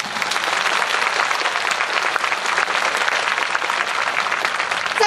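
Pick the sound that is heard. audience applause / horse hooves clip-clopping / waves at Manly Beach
audience applause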